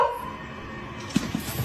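A puppy gives short, sharp yips and whimpers, with a couple of brief bursts close by near the end after a quieter stretch.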